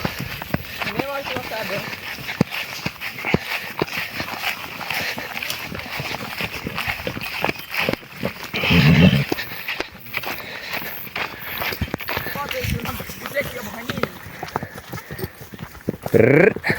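Horses shifting and stepping about on a hot day during an outdoor couple's photo shoot, with hoof clip-clops and shuffling steps recurring throughout, close by, under steady talk.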